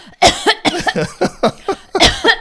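A voice imitates a series of short, forceful coughs in quick succession, close and loud.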